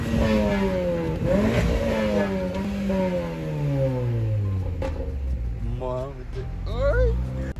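A car engine revs and winds down in long sweeping tones, fairly close, with a voice speaking briefly over it near the end.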